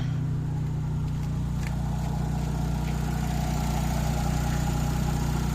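A Ford Lynx engine idles steadily after a cold start, a low, even drone holding at constant loudness throughout, with no talk over it.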